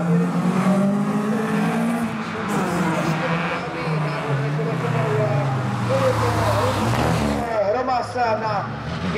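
A historic Nissan Micra rally car drives at the Mikuláš Rally, its engine loud and continuous with revving and shifting pitch, while a commentator talks over it throughout.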